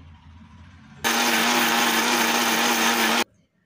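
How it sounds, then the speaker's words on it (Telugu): A kitchen mixer grinder whirs loudly as it grinds a handful of whole cloves and peppercorns to powder, a steady high-pitched motor roar lasting about two seconds that starts abruptly and cuts off sharply. "ఇలా మెత్తగా అయ్యేటట్టు మిక్సీ అయితే పట్టి పెట్టుకోవాలి"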